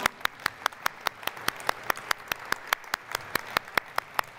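Audience in a district event hall applauding elementary school principals, parents and leaders: scattered, fairly sparse claps at a quick uneven rhythm, close and crisp, with no talk over them.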